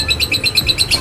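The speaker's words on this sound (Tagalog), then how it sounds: "Ayan, pangalawang ibon." Birds chirp in quick, repeated high tweets as they arrive at a training site, close and bright, in a rapid rhythmic series.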